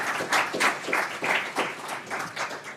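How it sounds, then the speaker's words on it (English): A small audience claps for a panel at a talk, scattered individual claps audible in a fairly quiet, moderate round of applause. "Please give them a round of applause."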